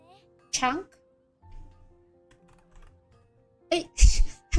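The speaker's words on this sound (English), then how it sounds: "I'm typing in the wrong thing." Keystrokes tapped on a computer keyboard while playing a word-guessing game, arriving in short clustered bursts between stretches of near silence, with talking close by.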